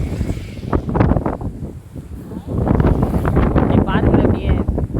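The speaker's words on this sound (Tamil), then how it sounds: "இந்த இடத்துக்கு நாங்கள் ஒரு ஹெவி காற்றுங்க, பயங்கரமாக காற்றடிக்குதுங்க." Strong, gusty wind roars through a forest, buffeting close and loud while someone talks over it almost throughout.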